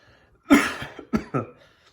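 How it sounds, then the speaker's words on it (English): Three sharp coughs ring out close up, one strong burst followed by two quicker ones, with near silence around them. "I just got a black pepper in the back of my throat, and now I'm coughing."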